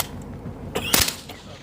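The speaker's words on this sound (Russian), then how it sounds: "А вот и Мосинка." A single Mosin rifle shot cracks loud and close at an outdoor shooting range in the evening, a sharp burst with a short tail, amid faint background noise.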